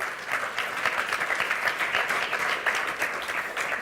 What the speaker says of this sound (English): maybe we should just give a round of applause